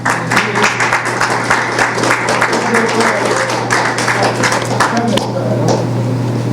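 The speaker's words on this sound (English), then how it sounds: "So Dr. Jeffries, give him a round of applause." At a tribute-to-the-ancestors event, a crowd keeps up steady, dense clapping with crisp individual claps standing out, while voices carry on underneath throughout.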